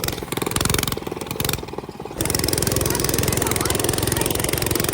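A minibike engine runs loud and close with a steady, rapid pulsing drone. It dips briefly in the middle, then holds a constant buzzing rhythm.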